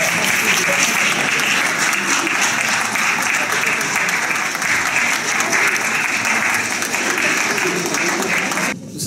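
Long, loud, sustained applause from a crowd welcoming Miss France 2015 on a visit to Béthune, steady throughout and cutting off abruptly at the very end.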